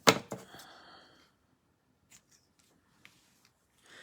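Scissors trim a length of ribbon with a couple of quick, close snips at the start. Light rustling and a few faint ticks of handling follow in near silence.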